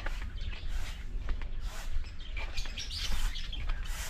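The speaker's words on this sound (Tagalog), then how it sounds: "African lovebirds yata itong mga to." African lovebirds in an outdoor aviary chirp repeatedly in quick, bright tweets over steady background noise at a beach property, close and moderately loud.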